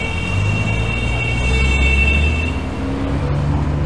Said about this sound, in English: I think that was actually that e-bike making all that noise.